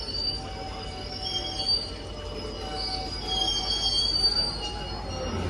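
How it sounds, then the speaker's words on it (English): A Class 66 diesel locomotive departing Warrington Bank Quay station rumbles steadily with a low engine drone and faint high metallic squeal, and a person talks nearby. "Here we go, 66 heading out now. Getting a good thrash from that loco."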